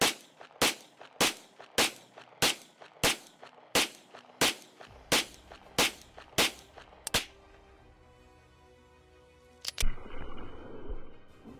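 A rifle fires about fifteen evenly spaced shots in quick succession as a full magazine is emptied toward a distant target, each crack sharp and loud outdoors, followed by quiet and then a final clatter of handling noise.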